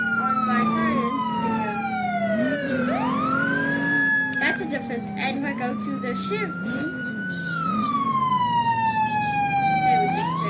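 Police car sirens in the Roblox video game wail and sweep up and down in pitch, changing tone partway through, with someone talking over them throughout.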